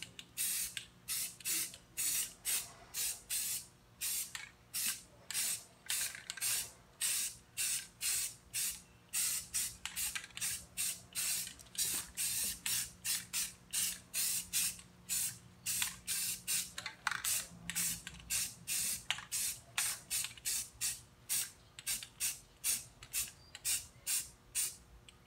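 A spray paint can coats wheels for a high-gloss finish, giving a steady series of close hissing bursts in a fairly even rhythm. There is no talk.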